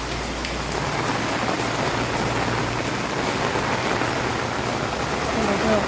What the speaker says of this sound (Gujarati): જો અત્યારે બહુ જ વરસાદ આવે છે.